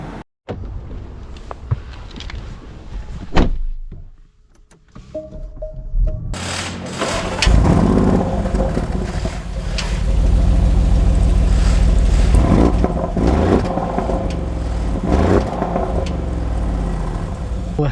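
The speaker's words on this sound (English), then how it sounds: "Let us set off in the Cayenne S." A 2025 Porsche Cayenne S with a V8 pulls away: a quiet cabin with a faint tone gives way after a few seconds to a steady, loud engine and road roar that builds and holds to the end.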